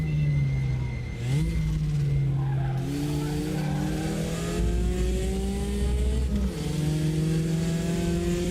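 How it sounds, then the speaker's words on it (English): A Porsche 944 race car in the RaceRoom racing game revs loudly and steadily, its engine note climbing through gear changes with short dips between shifts, and brief tyre squeal breaks in near the start. "I quite like the sound of the 944 actually"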